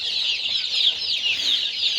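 A dense chorus of high, chirping peeps from many young chicks in a shed, steady and continuous, close by with no voices.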